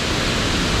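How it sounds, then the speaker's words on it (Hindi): A powerful waterfall with fast-flowing water at a picnic spot in Bangui, Central African Republic, gives off a dense, steady roar of rushing water that fills the scene loudly and evenly, with no voices. "इस पूरे वाटरफॉल का ये है, काफ़ी तेज पानी का फ्लो है"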